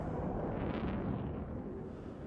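Deep, sustained explosion rumbles from the TV series Dark fill the scene, a continuous heavy low roar with no distinct individual blasts, fairly loud and steady throughout.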